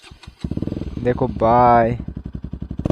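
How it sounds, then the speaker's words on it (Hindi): A Bajaj Pulsar NS200 motorcycle fitted with an Akrapovic exhaust idles close by with a fast, throbbing putter, then revs up to a loud roar for about half a second and settles back to idle. Someone speaks briefly at the start. "अभी एग्जॉस्ट साउंड सुनो कैसा है"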